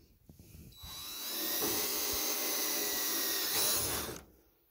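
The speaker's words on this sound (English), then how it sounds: "I'm going to go ahead and drill these holes." A DeWalt drill with a 13/64 bit bores a hole through a bracket workpiece over sacrificial plywood on a tabletop, one steady high whine lasting about three seconds, close and loud, with brief knocks before it.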